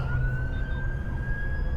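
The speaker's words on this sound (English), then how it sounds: "There's some ambulances going there, isn't there?" Ambulance sirens near a roundabout sound from a lorry cab, a thin steady wailing tone rising slowly over constant engine rumble and road noise, moderately distant.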